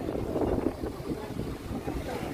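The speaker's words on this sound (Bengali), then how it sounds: "সুন্দর একটা বাতাস," Wind blowing on the bank of the Padma river while waves rock the water, a constant rough low rumble buffeting the microphone, loud and unbroken across the whole stretch.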